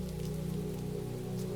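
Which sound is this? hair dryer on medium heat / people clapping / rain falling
rain falling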